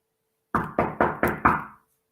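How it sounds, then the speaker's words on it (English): Five sharp, evenly spaced knocks on a door ring out alone in silence, each hit firm and close with a short ringing decay. "basically knocked on Emmitt Till's grandfather's door"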